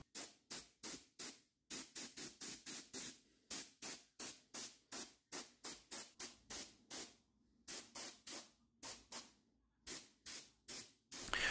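Short hissing bursts of a single-action airbrush spraying a white coat of paint, repeated in a quick steady rhythm with brief pauses, quiet and close.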